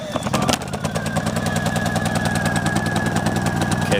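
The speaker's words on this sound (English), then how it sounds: "we'll get this thing fired up for you guys and actually hear it running." A Honda generator engine runs steadily at close range, a loud rapid mechanical chugging that holds an even rhythm with a faint whine above it, after a brief start-up burst.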